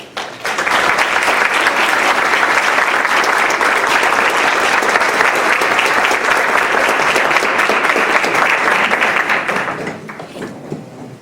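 Sustained audience applause welcoming the speaker to a talk on new evangelization, loud and steady for about ten seconds before tapering off, with no one speaking over it.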